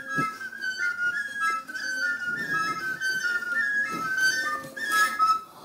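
A bright local whistle from Ghana's Upper East region plays a short wavering melody of sliding notes, close and clear, with faint background noise underneath.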